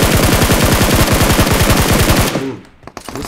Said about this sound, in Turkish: Sağımdan bir yerden Uzi sıktı biri.